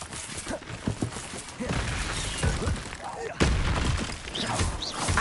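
Incendio fire spells cast repeatedly in Hogwarts Legacy on PS5 give a run of crackling, bursting blasts with thuds and shattering hits, loud and continuous against the game's background.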